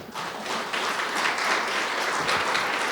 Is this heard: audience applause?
yes